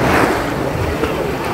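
Ocean surf at Amihan Beach in Dahican washes in as a loud, continuous broadband rush with wind buffeting the microphone, no voices over it.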